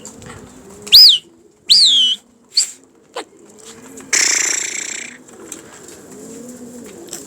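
Domestic pigeons give a few loud, close coos and chirps, followed by a burst of wing flapping as they take off, with quiet room tone in the gaps.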